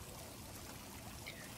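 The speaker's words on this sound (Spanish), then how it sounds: "Voy a acompañar también este sonido de agua" Steady, continuous flow of water, a soft even rush with no pauses or voices.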